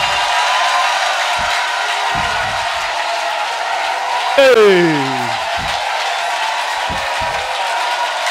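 A church congregation at a Saturday worship service raises a loud, sustained acclamation of cheering and applause that fills the whole stretch, and one voice briefly calls out over the crowd.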